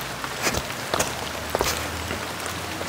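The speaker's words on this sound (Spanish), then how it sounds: "ya se nos vino más fuerte la lluvia" Heavy rain pours down at an old hotel in Chalatenango, El Salvador, a dense, steady hiss with scattered louder drips and splats nearby, and no one speaking.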